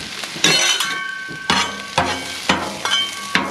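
Stir-fry sizzling on a Blackstone griddle, with metal spatulas scraping and tapping the flat-top in a steady rhythm of sharp clinks over a continuous close, loud fry.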